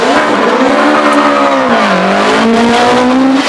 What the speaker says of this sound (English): Dave Whitehead now with the 2-litre Pilbeam Millington